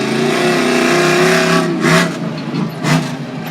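Monster truck engine in a Street Warriors qualifying run at a Monster Jam arena event in Stafford Springs, CT, roaring and revving loudly and continuously, with surges as it shifts gears and launches over jumps.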